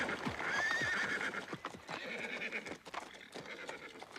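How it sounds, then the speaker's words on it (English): Horses neigh and whinny over steady clip-clop hooves as they pull a carriage at speed, loud and close, with overlapping calls and hoof beats throughout. "As the horses went faster, I closed my eyes in fear."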